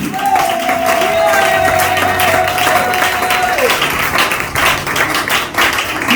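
A church congregation applauding to acclaim Jesus, sustained loud clapping from a crowd with a held sung or organ tone at the start and voices mixed in.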